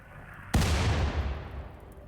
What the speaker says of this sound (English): mortars are getting ready to fire again